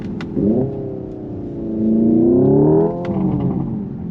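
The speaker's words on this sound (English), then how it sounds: "And it has a popcorn sound from the speaker." A synthetic engine sound played from the speaker of a Hyundai IONIQ 5 N electric car revs up and settles back down, a smooth rising hum marked by a couple of sharp popcorn-like pops.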